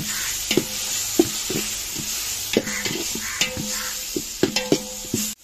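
Masala fries in a pan with a steady sizzle while a spoon scrapes and stirs it in irregular clanking strokes, close and clear, with no talking.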